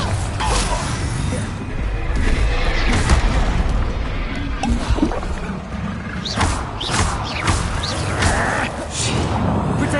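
Bombarda explosion spell cast in Hogwarts Legacy, heard as a dense, continuous battle din of booms, crashes and mechanical clatter that stays loud throughout.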